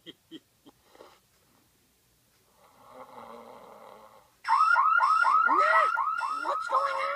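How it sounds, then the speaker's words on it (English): After a few faint sounds and a low hum, a loud electronic fire alarm kicks in with rapid repeating warbling siren tones, close and continuous, in a Simpsons cartoon. "Probably just a fire alarm."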